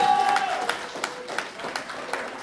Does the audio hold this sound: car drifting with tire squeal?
no